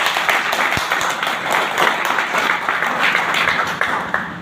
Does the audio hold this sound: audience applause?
yes